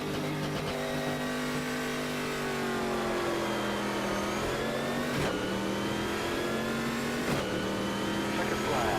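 A race car engine in a sim racing game held at high revs while the clutch is slipped at a standing start, a steady sustained drone with pitch sagging and rising, plus a couple of sharp clicks, under faint background speech.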